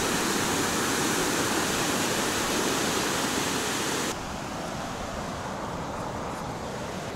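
River flowing near the Santa Rosa de Cabal hot springs in Colombia, a loud steady rushing roar of water that drops slightly in level partway through, heard close with no voices.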